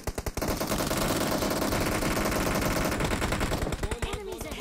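Rapid Uzi fire from a PUBG match, loud, dense and continuous for about four seconds, then tapering into scattered bursts and softer mechanical reload clatter near the end.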